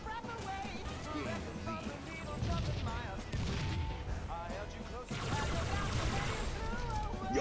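Pistol gunfire in Halo MCC online multiplayer, with repeated shots and battle noise that stay under continuous excited talking.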